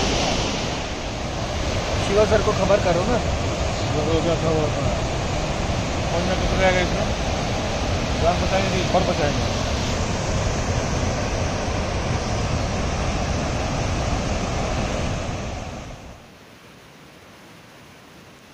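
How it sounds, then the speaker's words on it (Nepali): Floodwater of the Melamchi River rushing past near a headworks site, a loud steady broadband roar that fills the first fifteen seconds, with someone speaking briefly over it before the sound drops away sharply. "बाढी घटेछ, पानीको बिचको टापु सबै गएको छ, वार पारसम्म छ पानी मेलम्चीमा चाहिँ"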